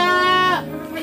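A Senduro goat gives a single loud, close bleat in a pen, the harmonic cry wavering for about half a second before breaking off into quieter pen noise.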